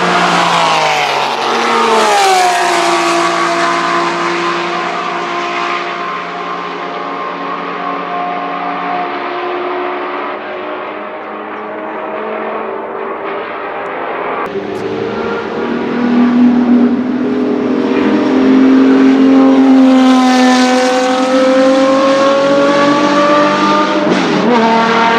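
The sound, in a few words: Porsche race car engine revving in video game Porsche Unleashed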